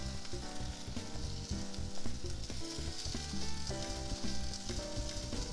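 Beaten egg sizzles loudly in a round frying pan while a Japanese rolled omelette is cooked, a dense continuous crackle with small clicks and scrapes of the pan, no voices.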